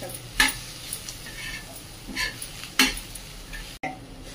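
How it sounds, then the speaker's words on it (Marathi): Chopped coriander stirred into onion and bottle gourd zunka in a pan, close metal spoon scrapes and clinks in irregular strokes over a soft sizzle. "अशा प्रकारे आपली ही कोथिंबीर पण छान मिक्स झाली"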